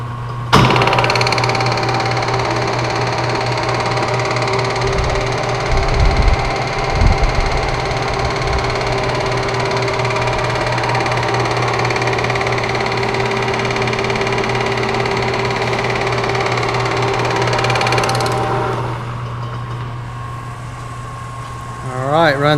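A Monarch CK12 lathe runs steadily after its clutch is engaged, a constant mechanical hum with a low drone, loud and close, continuing without a break until it starts to wind down near the end.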